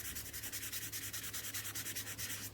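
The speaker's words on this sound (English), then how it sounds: "Just a little bit of sanding on these guys, just to get any of that smear from that alcohol ink or that alcohol off." Polymer clay pendants are sanded with fine-grit paper in quick, rhythmic back-and-forth rasping strokes, close and steady throughout with no talking.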